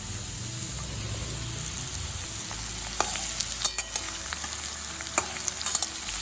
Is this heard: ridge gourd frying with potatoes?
yes